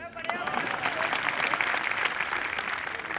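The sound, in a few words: audience applause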